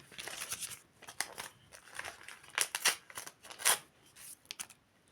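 Crinkly rustling and tearing of a plastic packet being opened, a series of sharp bursts of crackle close up, with quiet gaps between.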